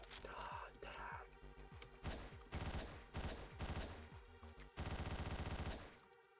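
Gunfire in Hotline Miami: rapid bursts of shots with hard impacts, crashes and thuds. The volleys start and stop abruptly over several seconds and come through quietly overall.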